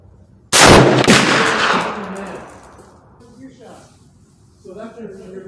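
Single sharp rifle shot from an S&W M&P15 on a range, a loud close crack with a long fading echo, followed by someone talking quietly.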